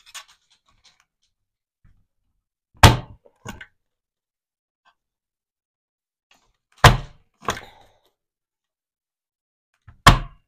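Sharp mechanical punching thunks from a corner punch rounding card corners come in pairs, spaced a few seconds apart over near-silence, close and crisp.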